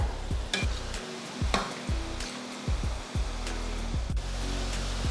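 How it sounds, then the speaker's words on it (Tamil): Murukku dough frying in hot oil, with a steady close sizzle broken by repeated short stirring or scraping knocks at a loose, uneven rhythm. "இப்போ எண்ணெய் நல்லா காஞ்சிருச்சு. இப்போ முறுக்கு போட்டுக்கலாம்."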